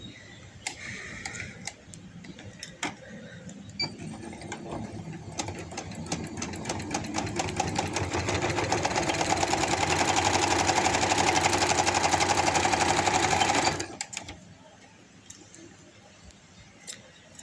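A sewing machine stitching a fabric pocket with silk thread, starting with slow ticking stitches, then running fast in a loud steady whir for several seconds before stopping abruptly, with quiet clicks afterward.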